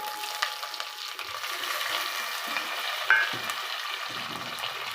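Onion and tomato sauté in a pan for sambar, giving a soft, even sizzle close by with a faint clink from a utensil partway through.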